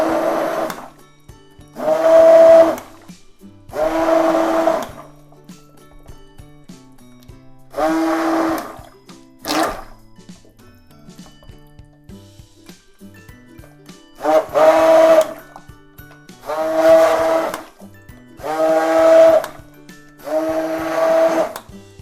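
An immersion blender blending clay into soap batter runs in about nine short, loud whirring bursts separated by brief quiet gaps.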